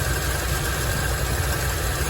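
A 1951 Ford engine with a fuel problem idling on fuel left in the carburetor bowl, a steady close, loud rumbling hum with even vibration and no talk.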